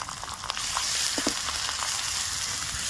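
Garlic, ginger and cumin paste hits fried onions in hot oil, sending up a dense, continuous close sizzle with scattered small pops and spatters throughout.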